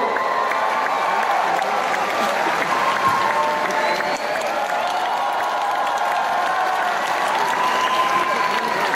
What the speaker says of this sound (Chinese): 让我们把掌声再一次送给 Kerr。